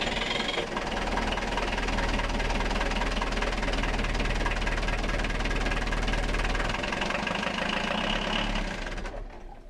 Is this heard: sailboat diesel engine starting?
yes